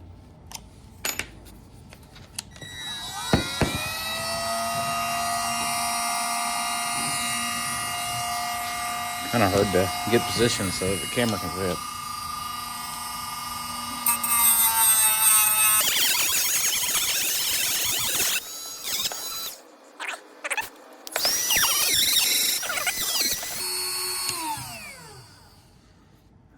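A high-pitched rotary tool with a sanding disc whines in long bursts, its pitch rising and dropping as it grinds down an RC car motor pinion, with someone speaking in between.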